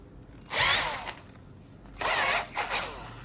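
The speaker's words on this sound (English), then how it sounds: "I'll carefully grind the battery core to extract the fine black carbon powder inside" A rotary tool grinds a battery core to extract fine black carbon powder, two loud bursts of high-pitched grinding separated by a short pause, close and alone.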